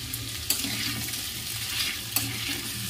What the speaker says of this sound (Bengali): খুব একটা ভাজবো না হালকা করেই ভাজবো একদম ধিমি আঁচে করবেন